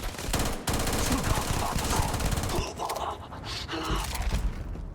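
Gunfire in the Starfield video game rings out as rapid, repeated bursts of shots, loud and dense, with brief pauses between volleys.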